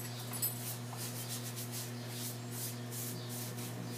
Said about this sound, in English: So I'm just going to scrub that off.